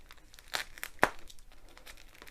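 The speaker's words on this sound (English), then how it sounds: "I think I'm going to need a very sharp knife to get started in this" A sharp knife cuts open the tight plastic packaging of a diamond painting kit, giving two or three brief crinkling, tearing bursts, close and fairly quiet.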